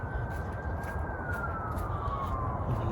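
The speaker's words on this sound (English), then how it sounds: "periodic sirens like that are probably going to be a normal occurrence" A police car siren passes near a hospital, a steady wailing tone that drifts slowly lower in pitch, heard at moderate distance over constant outdoor background noise.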